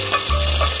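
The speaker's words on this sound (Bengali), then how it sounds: "এরপর সব কটাকে ভালো করে খুব নাড়িয়ে নেব" Chowmein vegetables with tomato being stirred in a pan, giving a short burst of scraping and sizzling at close range with no voices.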